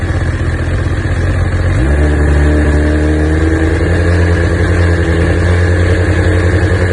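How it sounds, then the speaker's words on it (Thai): A 2018 Honda 1000 RR motorcycle engine idles loudly, then the throttle opens and the revs climb and hold at a higher, steady drone. "ถ้าเราเดินคันเร่งแล้ว รอบของเครื่องยนต์มีการเปลี่ยนแปลงนะครับ"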